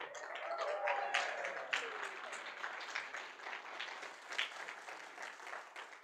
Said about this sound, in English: Let's give a big applause to Kim for arranging it.